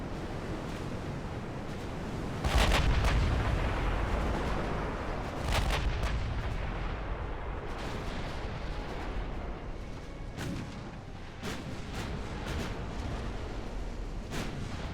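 Battleship guns fire in the naval game Ultimate Admiral: Dreadnoughts, several heavy booming salvos landing at intervals over a steady sea-like rumble, with no talking.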